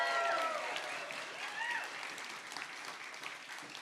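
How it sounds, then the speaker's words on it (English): Audience applause for speakers at a Curiosity Guild event in San Francisco, a steady wash of clapping at moderate level that fades slightly toward the end, with faint voices and a few whoops mixed in. "please be very generous with your applause for our amazing speakers"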